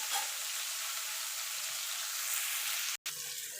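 Bitter gourd pieces fry in a pan with a steady, close hiss of sizzling oil that runs almost without a break, alone with no voices.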